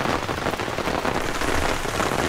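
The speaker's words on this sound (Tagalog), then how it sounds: "Lakas na ulan." Heavy rain pours down in a dense, constant hiss, drumming loudly and evenly on surfaces nearby with no pauses.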